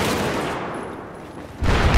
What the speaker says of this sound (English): Some fucking bloke on the fucking top firing fucking frag rounds.